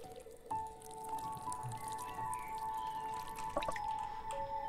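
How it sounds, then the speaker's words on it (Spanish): Watering a water plant in the video game Garden In! gives soft, quiet drips and light watery plinks, with a short chime-like tone sounding over faint background tones. "Echarle agua a una planta de agua."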